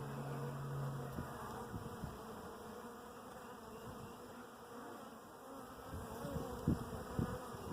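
Honey bees drone steadily at an opened hive on a breezy day, a constant low hum with scattered soft bumps from frames being moved, no talking.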